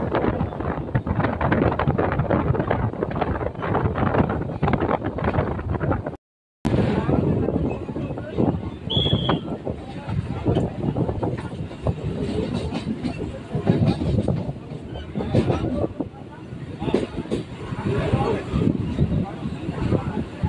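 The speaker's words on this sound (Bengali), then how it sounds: "ট্রেন এখন ভ্যাবলা স্টেশন ছেড়ে বেরিয়ে যাচ্ছে" A passenger train pulls out of Bhabla station on the Barasat to Hasnabad line, giving a loud, steady rolling rumble with rhythmic wheel clacks close by. The sound cuts out for a moment early on, then carries on unbroken.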